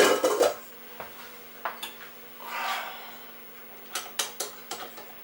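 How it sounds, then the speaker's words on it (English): Wire whisk clinking and scraping against a bowl while mixing cake batter, in scattered strokes and taps with a softer swishing stretch in the middle, close and moderately quiet. "I use my wire whisk"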